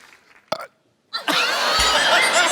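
A loud, drawn-out burp from a man after drinking a cold drink, on a comedy stage, followed by a burst of audience laughter and applause.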